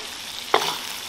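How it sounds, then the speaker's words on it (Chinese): A quick burst of sizzling as green Sichuan peppercorns, fermented black beans, ginger and garlic hit hot oil in a wok, a sharp stir-fry hiss that rises suddenly, then settles into a softer crackle. "然后放进几颗青花椒爆香，加上几颗永川豆豉增加酱香味，然后倒入姜蒜末"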